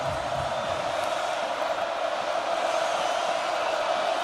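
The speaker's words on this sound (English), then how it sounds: "Kinnick crowd trying to get loud for their defense" Home crowd at Kinnick Stadium roaring to back the Iowa defense during an Oregon vs Iowa college football game, a steady, dense wall of distant crowd noise that holds without a break.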